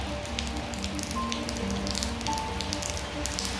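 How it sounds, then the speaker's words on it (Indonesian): Heavy monsoon rain pours steadily outside a house, a dense, continuous hiss of drops drumming on surfaces with no let-up, fairly close and filling the whole scene. "Makin lebat ni hujan."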